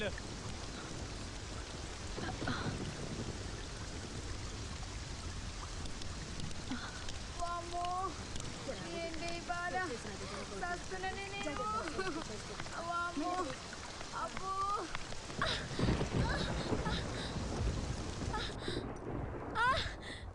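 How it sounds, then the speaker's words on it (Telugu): Steady rain falls outdoors in a Telugu film scene, a continuous broadband wash with no clear thunder, while several people talk and call out over it. "వర్షం వస్తున్నది సారు"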